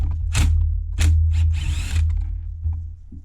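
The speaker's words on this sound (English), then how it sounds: "If I can get to these screws to break them loose without causing any damage." A tool works loose screws on the front end of a nitro RC car, giving several short bursts of ratcheting, grinding turns separated by pauses, close up with a steady low hum beneath.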